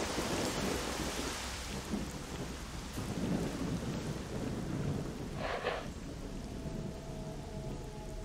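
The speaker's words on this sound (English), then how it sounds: "I feel like it's very loud with all this rain and the guitar." Heavy rain pours steadily in S.T.A.L.K.E.R. Shadow of Chernobyl, a dense wash of noise with low thunder rumbling beneath it and a brief sharper crack midway.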